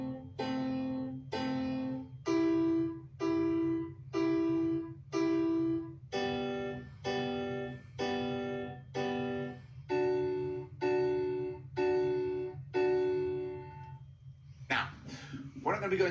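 Piano playing a film theme with just two fingers, a slow series of about fourteen evenly spaced single notes over a steady low hum, followed by a brief noisy burst at the end.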